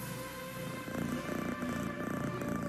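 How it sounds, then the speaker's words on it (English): A cat purrs in a steady, rhythmic rumble that grows stronger after a quiet start, close and continuous, with no talk. "Yes! Yes! This is my cat."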